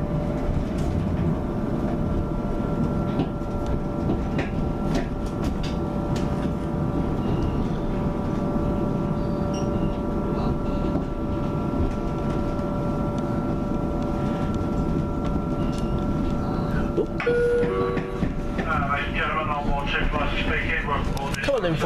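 A Class 455 electric passenger train departs with a steady electric hum and rolling rumble at constant loudness, plus a faint tone near the end and a voice speaking over it.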